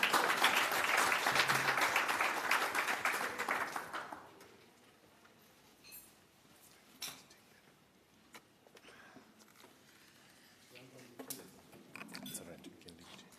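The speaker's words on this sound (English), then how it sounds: "I think she deserves a big round of applause." Audience applause at a business breakfast after a provincial address, a dense roar of many hands clapping for about four seconds before it dies away, followed by quiet room noise, a few scattered claps and clinks, and faint talk.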